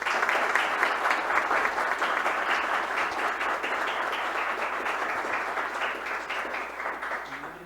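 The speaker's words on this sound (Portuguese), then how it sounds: "E eu queria pedir a vocês uma salva de palmas ao Tony Ponte Nova." An audience at a public hearing on volleyball and basketball applauds steadily, a dense crowd of claps that holds for several seconds and slowly fades toward the end.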